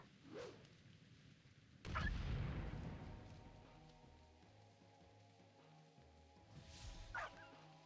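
Dog pet barking during a World of Warcraft pet battle: a few short, sharp yaps at the start, middle and end, over steady game music and effects.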